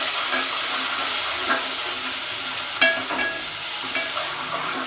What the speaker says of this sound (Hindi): बस इतना मसाला मुझे भूनना है कि लहसुन अदरक की जो कच्चेपन की वो स्मेल है वो ख़त्म हो जाए